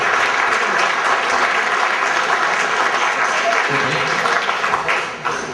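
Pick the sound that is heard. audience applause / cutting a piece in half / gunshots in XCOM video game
audience applause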